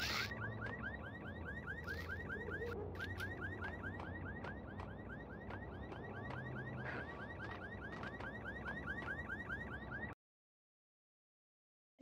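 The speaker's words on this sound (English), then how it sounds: "Sound like a car alarm." Car alarm in the Max Payne video game, a loud, steady, rapidly repeating electronic whoop cycling for about ten seconds under game ambience before cutting off abruptly into silence.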